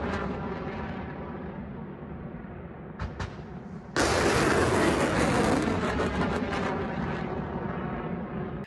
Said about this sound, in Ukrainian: Це бойовий пуск зенітно-ракетної установки С-300